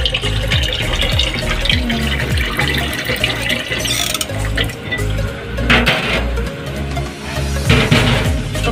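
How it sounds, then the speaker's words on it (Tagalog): Tap water pours into a pot for mung bean soup in a home kitchen, a steady continuous splash and fill sound running throughout, fairly close, with no talk. "Kuha tayo ng tubig para pangsabaw."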